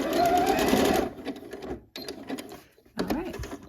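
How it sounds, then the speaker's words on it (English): A sewing machine back stitches a sleeve seam on a mock neck bell sleeve top, running in a long close burst, then two shorter runs separated by brief pauses. "Go ahead and back stitch."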